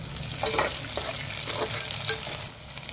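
Green chillies crackling in hot oil for a drumstick and amaranth curry, a steady close sizzle with a few brief stirring scrapes over about three seconds.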